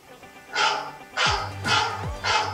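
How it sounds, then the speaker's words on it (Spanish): A dog barks four times in a steady rhythm, each bark loud and close with a short hoarse tail, separated by brief pauses. "Ese es el perro de Julián."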